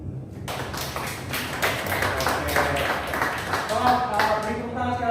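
Audience in a university public speaking session clapping for the speakers at the front, a burst of clapping that starts abruptly and continues steadily while a voice talks over it.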